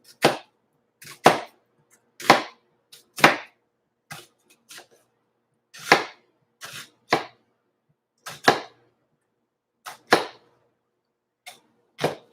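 Knife chopping through an onion cut against the fibers on a board, a series of about a dozen crisp, separate thuds at an irregular pace, close and fairly loud, with no talk.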